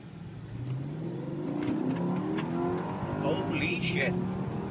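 An LPG-converted Mercedes-Benz AMG 5.5-litre supercharged V8 pulls hard from inside the cabin, a rising engine whine and roar building over several seconds under a muffled wind rush.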